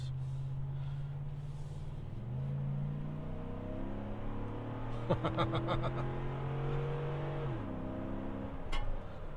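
A 2012 Ford F150 Raptor with a 6.2-litre engine drones under load, its revs climbing and easing through gear changes in a close, sustained growl, with a brief clattering burst midway.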